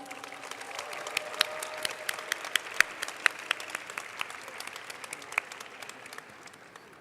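A crowd applauds at a school science competition's closing ceremony, with steady, dense clapping from many people and a few sharper claps standing out near the microphone.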